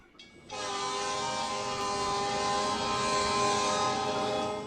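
A steam train from the Western film Back to the Future Part III roars past loudly and steadily, with a sustained whistle-like harmonic tone over a rumbling rail din after a brief quieter lead-in.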